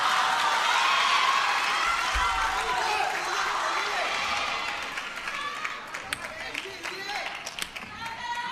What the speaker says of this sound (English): And the GOAT applauds as well.